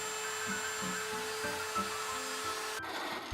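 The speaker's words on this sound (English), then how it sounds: "Next I added a roundover on the bottoms using my router table" A router table cuts a roundover along the bottom edges of small segmented wooden boxes, a steady high whine from the spinning bit with faint repeated rubbing passes beneath, then the motor cuts out abruptly near the end.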